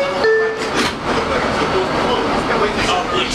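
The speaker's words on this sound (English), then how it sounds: "this is a Bowling Green bound 4 express train" Rumbling noise of a 2003 Kawasaki R142A 4 express subway train departing Fulton Street station in New York, heard from nearby with brief clinks and clatter, a few faint tones and murmurs.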